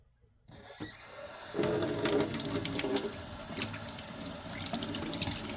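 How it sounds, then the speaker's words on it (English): Kitchen tap water runs steadily as something is rinsed off under it, starting after a short silence and swelling into a louder splashing flow, with faint clinks of handling nearby and no talking. "And then I give this a rinse"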